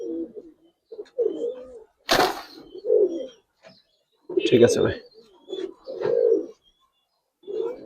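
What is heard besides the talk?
Indian Rampuri pigeons cooing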